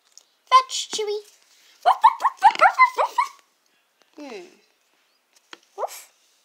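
A dog at play during a game of fetch with a ball lets out a cluster of barks and yips, then a few thin whimpers with quiet gaps between, close and clear.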